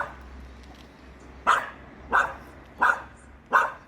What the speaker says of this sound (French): Elle a appris à engueuler ses patrons en fait, cette chienne.